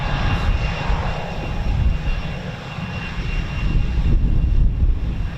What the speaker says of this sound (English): Clear for takeoff, here we go.